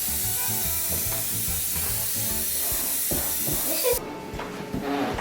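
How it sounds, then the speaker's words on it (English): An aerosol can sprays a bowl before bread dough goes in, a loud continuous hiss lasting about four seconds and cutting off abruptly, with light knocks and a voice behind it. "First, we're going to spray the bowl."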